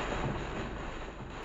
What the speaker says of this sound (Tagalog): Kita ang lakas ng bugso ng hangin.